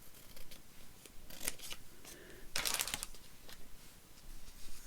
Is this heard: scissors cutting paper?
yes